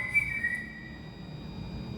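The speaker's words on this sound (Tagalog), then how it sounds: "May pasipol-sipol pang naglakad" A person whistles a light tune while walking, a steady high whistle that holds near one pitch and slides a little early on, over a low background murmur.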